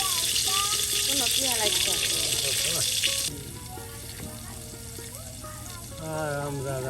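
Cooking oil poured into a pan in a village kitchen, a steady broadband pouring and sizzling hiss for about three seconds that then drops to a quieter simmer, with people talking throughout.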